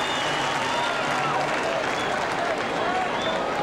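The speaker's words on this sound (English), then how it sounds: "And a louder than usual cheer for a fly ball to center field." A baseball stadium crowd cheering a fly ball to center field at a Blue Jays game against the Mets, a sustained broad roar from the stands with a commentator talking over it.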